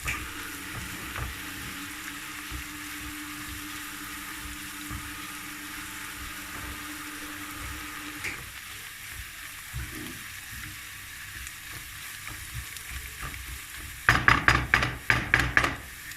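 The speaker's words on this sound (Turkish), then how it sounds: "Evet, öyle karıştırıyoruz." Food with mushrooms is stirred in a pan over a low sizzle, with quiet scraping and bubbling under a faint hum, then a burst of sharp clattering, knocking utensil sounds near the end.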